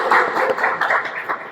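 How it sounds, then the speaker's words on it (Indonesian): A classroom group claps together in a quick, fairly even run of hand claps that carries across the room, with no voices over it. "Ya, kita kasih tepuk tangan semuanya"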